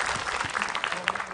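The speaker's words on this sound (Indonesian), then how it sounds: "Tepuk tangan dulu dong buat Ustadz Epi" A studio audience at an Islamic religious TV program claps for Ustadz Epi Effendi, a short, moderately loud burst of applause with a few stray voices beneath.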